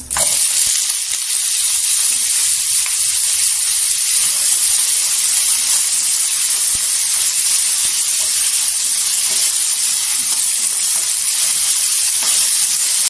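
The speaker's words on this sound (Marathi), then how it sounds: "इथे बटाटी टाकायची" Potato pieces hit hot oil seasoned with golden cumin, giving a loud, continuous hiss and sizzle that holds steady from start to finish with no talking.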